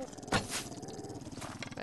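A dog in the survival video game 7 Days to Die growls low and rough, with a couple of louder snarling bursts over continuous game background noise.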